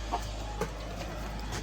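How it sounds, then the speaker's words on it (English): A broody hen in a chicken coop gives a few short, faint clucks and grumbles over a low steady hum, close by and with no talk. "Broody Mama's angry"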